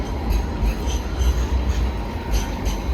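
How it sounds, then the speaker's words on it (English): A light rail train in a Sydney street passes close by, a loud, continuous low rumble with wheel and rail noise filling the whole moment. "Look at this train."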